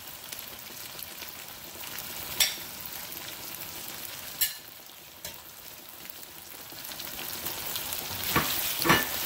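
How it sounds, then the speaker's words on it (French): Onions cooking in a pan for Haitian-style spaghetti, a continuous soft sizzle with scattered louder spatters and stirring scrapes, close and alone without voices. "On va tellement mettre des oignons pour les cuire."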